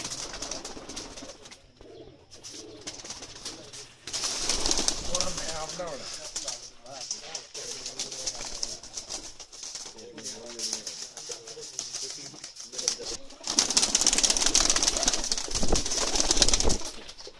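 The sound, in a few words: Pakistani pigeons cooing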